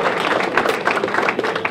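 A crowd applauds at a formal solemn school-year opening ceremony, brief loud clapping with distinct individual claps audible throughout, close and continuous.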